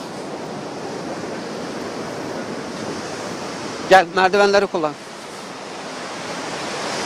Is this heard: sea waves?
yes